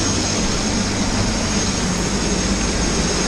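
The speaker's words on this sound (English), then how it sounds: "Helicopter's waiting." A helicopter sits waiting before a tandem skydive, its engine and rotor making a loud, steady roar that fills the whole stretch without a break and with no talk over it.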